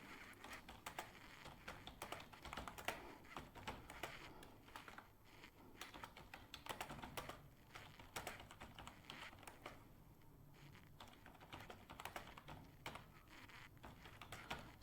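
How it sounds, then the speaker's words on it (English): Typing on a computer keyboard while writing in a Google Docs document, a quiet, steady patter of key clicks in irregular bursts throughout, with no voices. "So you can type."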